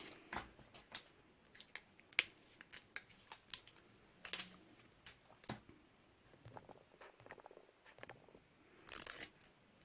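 Craft material for a mini folio journal being cut with scissors. Faint, scattered snips and light clicks come at irregular intervals in a quiet room, with a brief denser rustle near the end and no speech.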